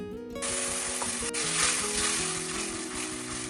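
Whole spices (cardamom, cinnamon, cloves, peppercorns) hit hot oil and ghee in a wok with a sudden loud, steady sizzle that holds throughout, close by, over faint background music.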